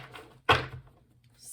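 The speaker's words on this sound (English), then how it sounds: "I'm gonna just go ahead and cut the deck." A tarot card deck being cut by hand: one short, sharp slap of cards up close, loudest at the moment of the cut, then quiet with no talking.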